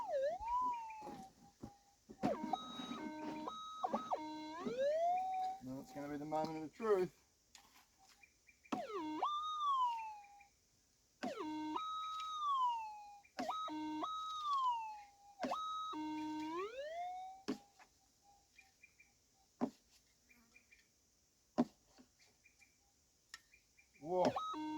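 A metal detector searching an old mining slate layer gives off loud, repeated rising and falling electronic warbles in several separate bursts, with quiet gaps and clicks in between. Someone speaks briefly.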